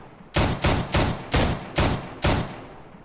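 Six evenly spaced, loud, sharp gunshots from a modded gun in a video game, each one a heavy crack followed by a short decaying tail, with near-silence between them.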